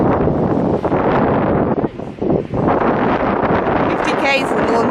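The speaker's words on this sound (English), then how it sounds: "it's windy" Strong wind buffets the microphone outdoors in north west Queensland, a loud steady roar with brief lulls and a voice over it.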